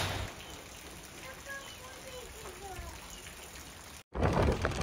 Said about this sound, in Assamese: ইমান বেয়াকৈ বৰষুণ দিছে, একদম গছডাল বাগৰি যাব খুজি আছে